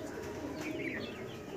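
Pigeons in a large loft give soft, faint coos and light chirps over a low, steady background hum, with no talk.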